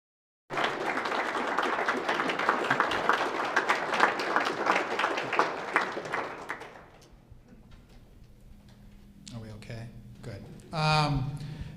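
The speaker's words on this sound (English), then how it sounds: "Thank you for applauding, even despite the mic." An audience applauds after a panel discussion at a lecture, dense steady clapping for several seconds that fades out, followed by a short burst of muffled speech from a poor microphone.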